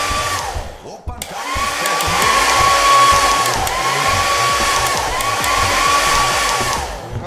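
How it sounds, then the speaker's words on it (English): An in-game hair dryer from Lethal Company whirs loudly and steadily for several seconds, a constant blowing drone with a faint whine on top. "found a hairdryer"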